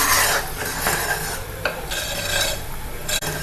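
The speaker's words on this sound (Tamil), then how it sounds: "உப்பு சேர்த்து நல்லா மிக்ஸ் பண்ணிடலாம்" A spoon stirs sago payasam with sugar and salt in a pot, giving rhythmic scraping strokes over a faint simmer, close and moderately loud with a brief knock near the end.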